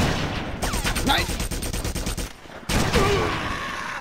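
Rapid automatic gunfire rattles in the video game Red Faction, with a long fast burst of shots, a brief pause, then another loud burst; a voice talks faintly over the shooting.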